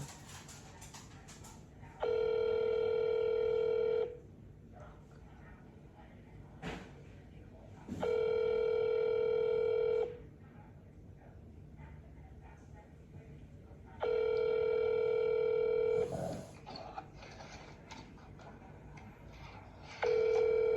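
A telephone call to a county office rings unanswered. Four long, steady ring tones come at even intervals, a few seconds apart, over a faint background hiss.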